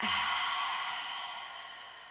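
A single long breath exhaled through the open mouth during a guided breathing exercise, a soft, close, airy sigh that slowly trails off.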